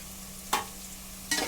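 Beans and tomato curry being stirred in a pan, two short scraping strokes of a spoon over a faint low hum, quiet otherwise.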